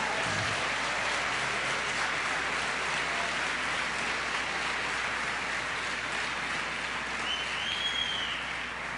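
Sustained applause from a church audience at an evangelical event fills the space, a dense, steady wash of clapping that holds at an even level throughout with no voices rising above it.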